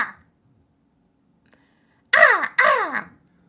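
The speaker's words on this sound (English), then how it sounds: "I hear like a raven or a hawk out of my window" Crow or raven outside a window giving two loud harsh caws in quick succession after a brief faint sound and a pause of near silence.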